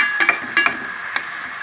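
Mutton frying in a pan for a drumstick curry, with a soft hiss of oil and a few quick scraping stirs at the start and again midway, close and clear.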